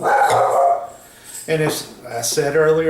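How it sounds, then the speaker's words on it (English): Dogs bark in short bursts in the background while a person talks nearby. "I do apologize for the dogs barking"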